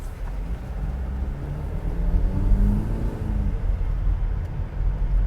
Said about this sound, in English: like the sound of this 2-liter